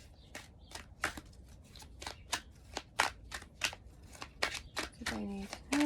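Fairy oracle cards are shuffled in a rapid run of crisp flicking riffles, close and steady, ending with a short burst of talking.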